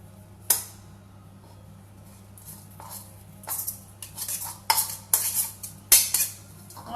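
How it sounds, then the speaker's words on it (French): Tomato-spread stuffing for stuffed tomatoes being mixed in a bowl, irregular clinks and scrapes of a utensil against the dish, growing busier and louder toward the end over a low steady hum, no talk. "vous mélangez bien votre farce avec la tartinable tomate"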